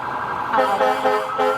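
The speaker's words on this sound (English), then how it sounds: "They have terrific sirens, as they do every year." Police car sirens in a 4th of July parade in Hoffman Estates, a loud wailing tone rising and falling close by, continuous through the moment without speech.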